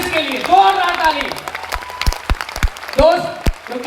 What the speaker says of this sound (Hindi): दूसरा हाथ से जोरदार ताली बजाइए आप हमारे एसलीपीएस वेलनेस के लिए, जोरदार ताली